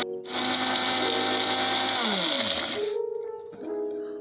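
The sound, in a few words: electric grinder grinding cinnamon and black chickpeas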